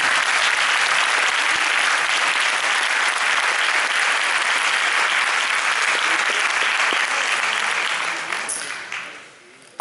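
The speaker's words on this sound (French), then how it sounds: "Je vous invite déjà à les encourager et les applaudir pour ce beau travail effectué." An audience at a junior mass band concert claps loudly and continuously, a thick wash of applause that tapers off near the end.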